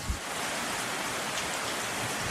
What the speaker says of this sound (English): Woke up early morning to the storm. We got heavy rain.